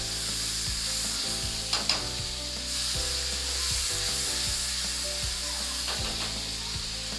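Masala frying in oil in a pan for spiced black chickpeas, a continuous close sizzle with scraping stir strokes of a spoon breaking through now and then.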